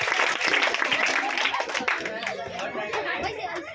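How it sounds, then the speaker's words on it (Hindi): Crowd clapping and lively chatter at a Teacher's Day celebration at a study centre as Ansh Kumar is welcomed to the stage, loud at first and gradually thinning, with voices mixed in. "जोरदार तालियों के साथ इनका स्वागत कीजिए।"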